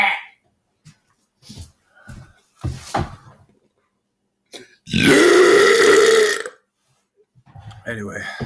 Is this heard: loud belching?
yes